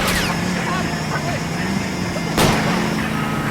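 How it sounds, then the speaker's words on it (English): In L.A. Noire, two sharp gunshots are fired at a fleeing car's tires, one at the start and one near the end, over a steady rumbling engine during a car chase. "I'll try to shoot out his tires."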